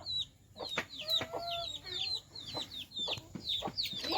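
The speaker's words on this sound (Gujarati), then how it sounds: "જો કુકડા ગાઈશ" Chickens cluck and chatter on a family farm while a rooster crows briefly. The calls are faint and distant, repeating in quick bursts throughout.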